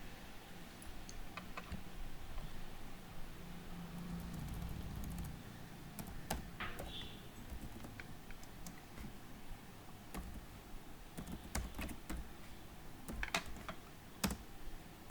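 Scattered clicks of typing on a computer keyboard, irregular keystrokes over a faint background hum, fairly quiet and close.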